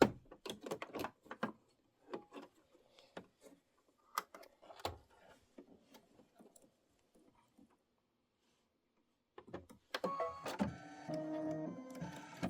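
Sewing machine stitching a quilt block, quiet intermittent mechanical clicks and bursts, then a pause, followed by a denser steady run of stitching near the end, close and faint.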